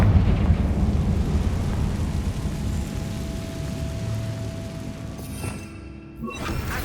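A Confringo blasting spell explodes in Hogwarts Legacy as a long, rumbling roar of noise that fades and then cuts off with a sharp thump near the end.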